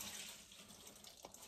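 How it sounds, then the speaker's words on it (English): Hands rinsed under a running kitchen tap for a quick moment, a steady close splash of water into a sink with a brief louder gush near the end. "Just quickly rinsing my hands, so I don't have any of that on there to"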